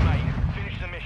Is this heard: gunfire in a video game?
yes